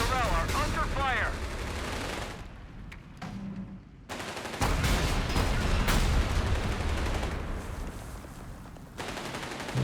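In a video game featuring a Free French battlegroup with a Panzer IV, bursts of machine-gun and rifle fire crackle at varying distances, some heavy and close, with gaps between volleys and voices speaking over the battle.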